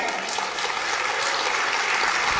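Thunderous applause from a concert audience at a live show in Montreal, dense and continuous for a couple of seconds, loud and even with no voices over it.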